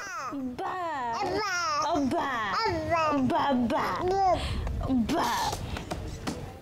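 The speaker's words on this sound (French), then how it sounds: "Cela encourage le bébé à continuer à babiller en retour." An infant babbles in rising and falling sing-song syllables while a caregiver in Ghana echoes the same sounds back, the two voices trading short vocal bursts continuously and close by.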